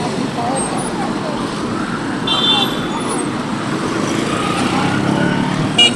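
Steady road traffic on a Nairobi street where police are directing vehicles, a continuous broadband rumble of engines and tyres with a brief higher whine midway, heard up close and fairly loud throughout.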